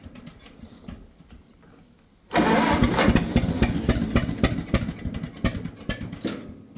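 A vintage 1950s Ford tractor engine cranks weakly, then fires and roars into a loud, rough running clatter that holds steady close by.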